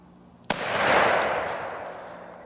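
A single firework launches with a sharp crack, followed by a loud, rushing hiss that swells and slowly fades over a couple of seconds, heard outdoors without talk.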